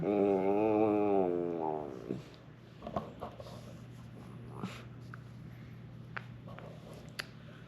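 A dog close by gives a long whiny, wavering whimper, then shifts to snorts, sniffs and small chewing or squishing noises in a quiet room.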